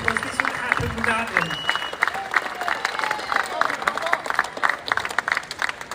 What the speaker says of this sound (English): let's have a big round of applause for everyone behind For the Children campaign